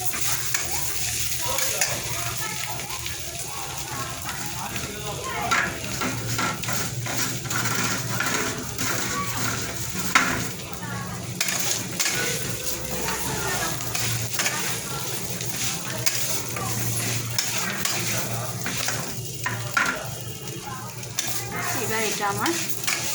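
Rice and lentils are stirred and sautéed in a hot pan, with a spoon scraping and clinking over a steady sizzle, continuous and close throughout.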